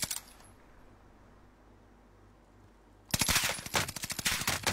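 Video game automatic gunfire from a rifle with an aim-down-sights optic, a rapid loud burst of shots starting abruptly after a few seconds of quiet background hum.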